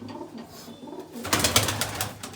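Pigeons coo softly at first, then a louder burst of fluttering and rustling takes over, close by.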